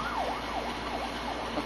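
A police car siren wails in a fast repeating up-down sweep, moderately distant, over low traffic rumble.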